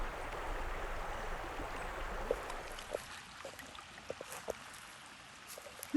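Water in Dry Creek, a salmon stream, rushes steadily with a broad, hissing wash. It fades to a softer flow about halfway through, with scattered small splashes and trickles.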